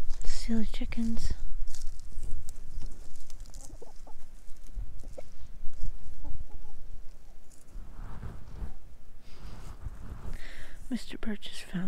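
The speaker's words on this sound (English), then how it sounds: "Silly chickens." Chickens cluck and murmur close by, with soft scratching and rustling between the clucks.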